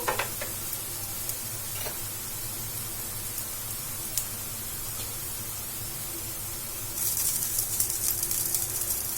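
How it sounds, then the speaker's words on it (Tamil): Banana-and-bread sweet frying in a pan over a medium flame gives a steady, close sizzle and hiss that grows louder and brighter near the end, with no voices. "இதை வந்து மீடியமான ஃப்ளேம்ல வச்சுட்டு நம்ம எல்லா பக்கமும் ஃப்ரை பண்ணி எடுத்துக்கலாம்."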